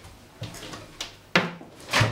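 A microwave oven door is opened in a home kitchen, a few short clicks and knocks of the latch and hinge, close and fairly sharp, ending in a louder thump with no voices.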